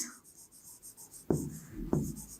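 A pen scratches on paper in short strokes over soft background hiss, with two sharper marks standing out as something is written by hand nearby.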